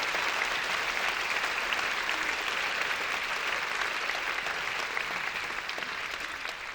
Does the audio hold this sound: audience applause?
yes